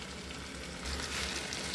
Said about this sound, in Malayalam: ഉപ്പും കൂടി ഇട്ടിട്ട് വഴറ്റിയെടുക്കാം.